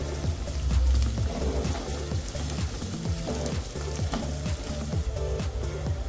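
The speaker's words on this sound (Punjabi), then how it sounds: "ਤੇ ਪਿਆਜ਼ਾਂ ਨੂੰ ਭੁੰਨ ਲਵਾਂਗੇ" Onions fry in a pan with ginger and garlic, giving a steady close sizzle and crackle with occasional stirring clinks throughout and no speech.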